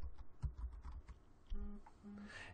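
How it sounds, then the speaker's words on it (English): Typing on a computer keyboard at a desk, quiet irregular key clicks in short bursts throughout, faint and close with no talk. "Now I'm going to start typing in here"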